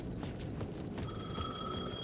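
A telephone rings in the Alan Wake video game, a thin, steady electronic tone that starts midway and holds over a busy rumbling game background.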